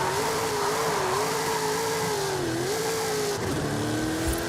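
A drift truck's engine in Forza Horizon 5 accelerates steadily, its rising, wavering drone holding loud and close for several seconds with a brief dip near the end.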